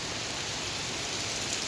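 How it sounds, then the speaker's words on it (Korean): Rain shower pouring steadily outdoors beside Seokchon Lake in Jamsil, Seoul, a dense, even hiss of drops striking surfaces all around, fairly loud and unbroken, with no voices. "그 빗방울 이쪽까지 날리는데요"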